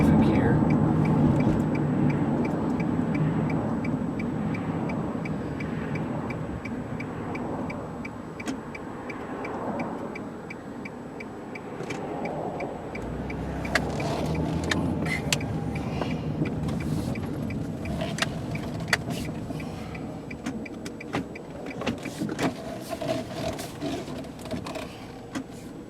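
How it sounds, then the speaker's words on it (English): A silver 2003 Nissan Altima SE engine hums steadily while the car is driven at around 50 mph, a low continuous drone with road noise and occasional ticking clicks throughout, no talking. "let you listen to the motor."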